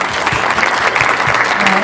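Audience applause after a presentation's closing exchanges: a dense, even patter of many hands clapping at a moderate distance, with a voice faintly audible over it.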